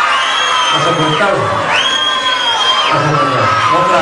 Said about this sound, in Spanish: El grito de las chicas ahí